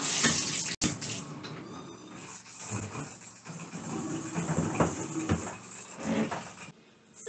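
Water rushes steadily into the tub of a small ZENY portable washing machine loaded with a towel and washcloth, a continuous close hiss lasting nearly the whole stretch after a sharp click near the start, then easing off at the end.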